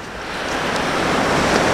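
Calm sea washing gently along the shore near a pier on a sunny day, a steady soft rush of surf with light wind noise, no voices.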